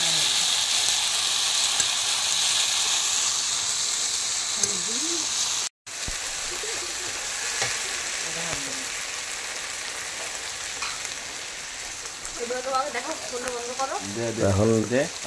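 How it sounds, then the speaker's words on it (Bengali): A cumin and chili paste, along with ginger and garlic, fries loudly in a pan for an egg curry, giving a strong continuous sizzle close up, with brief voices toward the end. "জিরে বাটা লঙ্কা বাটা ওগুলো দিয়ে দেওয়া হলো। ওগুলোকে ভালো করে কষিয়ে নেওয়া হবে।"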